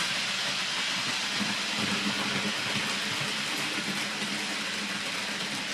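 A Hornby Class 67 model locomotive in DB Schenker livery runs smoothly along its track, giving a steady, soft hiss and whirr with a faint low rumble, continuous and unbroken throughout.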